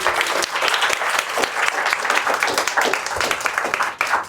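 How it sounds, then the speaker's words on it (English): Audience at a mushroom-themed food event in a park giving a round of applause, lively close clapping with individual claps audible, fading briefly near the end. "Let's give them a round of applause."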